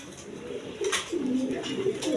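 A pair of red Chulli pigeons coos in low, throaty rolling phrases that repeat close by, steady and fairly loud at a pigeon sale with no one talking.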